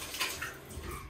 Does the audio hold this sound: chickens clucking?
no